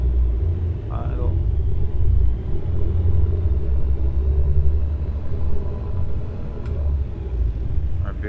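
A light aircraft's piston engine runs up on the ground during propeller and RPM checks, a steady, heavy low rumble that swells and eases slightly, with a muffled voice audible beneath it.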